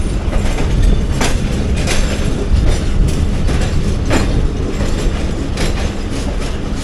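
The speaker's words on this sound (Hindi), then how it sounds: "सामने शंटिंग भी चल रही है।" A train shunting at a station, loud rolling clatter of railway wagons with rhythmic clickety-clack wheel beats and occasional metallic squeals, close by and without speech.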